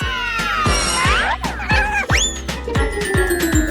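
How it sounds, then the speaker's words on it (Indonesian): A small cartoon-style cat meows in a fun food-challenge setting, with several rising and falling mews over a steady rhythmic backing beat and bouncy sound effects, loud and close. "Siapa yang membawamu kemari, kucing kecil?"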